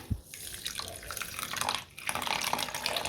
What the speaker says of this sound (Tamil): இப்போ இதில் வந்து ஒரு கால் கப் அளவுக்கு தண்ணி சேர்த்துக்கலாம்